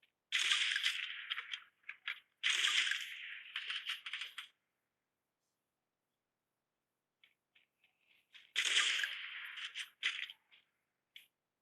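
Clusters of sharp, rapid video game gunshot bursts crackle in two volleys separated by a silent gap, with scattered single pops trailing off.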